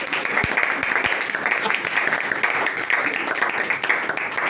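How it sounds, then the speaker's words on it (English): Audience at an exco presentation and leadership workshop clapping on request, a dense, steady patter of many hands sustained throughout, fairly close and loud with no voices over it. "Give me a clap so I know I'm doing a good job."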